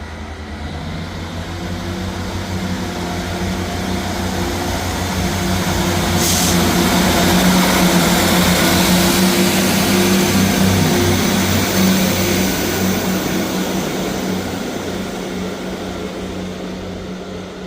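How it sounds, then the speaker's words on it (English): A ScotRail train pulls out of Edinburgh Gateway station, its engine drone and rumble loud and steady, swelling in the middle and easing off slightly as it departs. "Departing out now is the 11:28 ScotRail service from Cowdenbeath to Edinburgh Waverley."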